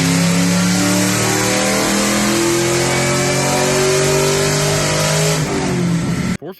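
A supercharged Ford Mustang 4.6 3V V8 fitted with a Department of Boost M122 blower kit revs hard, its loud rising engine note climbing steadily before cutting off abruptly near the end.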